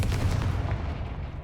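Confringo fire spell blasting in Hogwarts Legacy, a deep, rumbling boom that stays heavy in the low end and slowly fades over about a second and a half.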